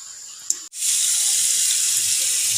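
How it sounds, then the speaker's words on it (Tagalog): A faucet turned on for hand washing, with a small knock and brief hush before a steady, close rush of running water that continues without talk. "Maghuhugas ng kamay."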